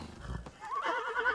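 A horse in the video game Ghost of Tsushima gives a loud, close whinny that rises into a wavering, drawn-out neigh after a brief low snort and shuffle.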